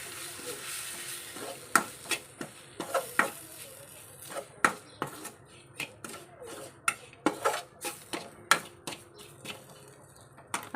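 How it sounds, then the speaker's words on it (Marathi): Spices sautéing in oil in a pan for Malvani-style white pea usal: a soft, steady sizzle under repeated sharp clinks and scrapes of a spoon stirring against the pan, heard up close with no speech. "आता त्यामध्ये आपण हे सर्व मसाले घालून घ्यायचे आहेत आणि छान परतून घ्यायचे आपण मसाले तेलामध्ये।"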